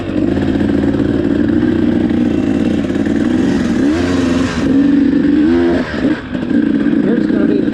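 A dirt bike engine roars steadily and close while riding, with mechanical clatter and surges of revving, loud and continuous, with someone talking over it.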